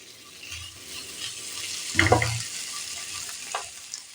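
Spices with red chili powder sizzling in oil in a pan while being stirred, a soft steady fry with a louder scraping stir burst midway, close and fairly quiet.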